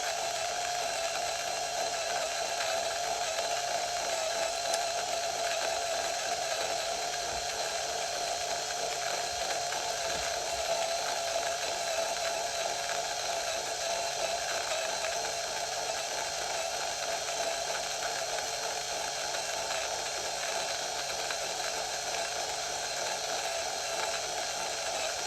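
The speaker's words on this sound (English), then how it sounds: "Here is the grind speed and grind sound." An Option-O Lagom Mini coffee grinder with 48mm burrs grinds beans in a steady, continuous whir with a fairly bright mechanical tone, even in level and unbroken for the full stretch, fairly quiet with no talking.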